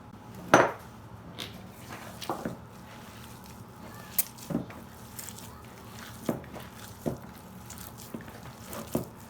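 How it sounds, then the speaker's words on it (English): An egg being mixed into cabbage roll soup ingredients in a bowl, scattered clinks and scrapes of a utensil against the bowl with soft squishing between them, irregular and close. "You'll put your egg in here, mix it up."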